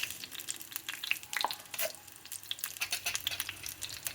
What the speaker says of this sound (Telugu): ఆవాలు జీలకర్ర తాలింపు చేస్తున్నాము.